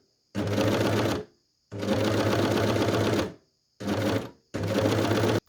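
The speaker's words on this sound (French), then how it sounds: "et je commence à piquer." A sewing machine stitches along the edge of a fabric sleeve piece in four steady, loud runs separated by brief stops.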